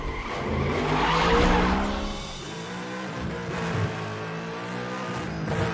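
Car tyres skid and squeal in the arcade racing game Need for Speed The Run, the engine roaring loudly as the car slides, with drawn-out screeching pitches rising and falling over several seconds.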